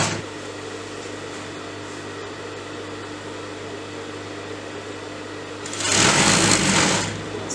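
A sewing machine stitches a folded belt onto palazzo pants, its steady motor hum running throughout and swelling into a louder, brighter burst of fast stitching near the end.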